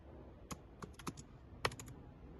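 A few quick, light keystrokes on a computer keyboard, clustered taps with short pauses, close and fairly quiet.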